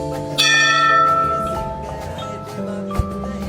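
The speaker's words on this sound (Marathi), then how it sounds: "आपण घंटा वाजवू आता." A bell rings out loud and clear, its sustained metallic tone starting sharply and then ringing on with slowly fading overtones, followed by a second fainter strike near the end.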